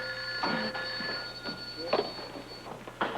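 A telephone rings at a hospital nurses' station in a soap opera, its tonal bell sounding in a few short bursts alongside quiet voices and background hum.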